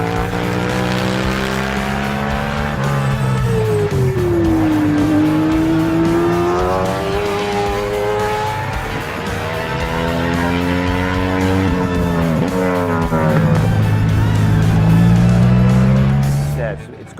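A racing sidecar engine on the TT course revs and passes, its tone sweeping up and down with gear changes and fading in and out, loud and close, with someone talking over it throughout.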